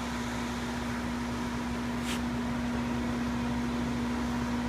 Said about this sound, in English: I can now recover the refrigerant using the machine and throttling it back here